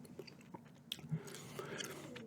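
Gum being chewed close to the mic in an ASMR ramble, soft wet smacks and clicks repeating irregularly, with a faint voice murmuring now and then.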